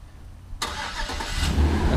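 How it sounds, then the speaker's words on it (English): A 2015 Chevrolet Express 2500 conversion van starts by remote, with a sudden crank catching into a running engine that settles into a steady, close, rising idle. "It's got nice remote engine start. You just lock it, push the button."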